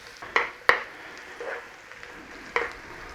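Onions sizzle softly in a pan over low heat, with a few clattering knocks of a utensil against the cookware, no talking.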